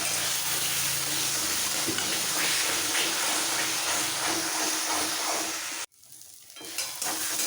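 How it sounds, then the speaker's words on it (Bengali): Potatoes and flat beans sauté with spices in a hot pan, making a loud, dense sizzle with stirring scrapes up close before it cuts out abruptly. A quieter sizzle follows. "মশলার সাথে আলু আর শিম একসাথে কষিয়ে নেবো এবার"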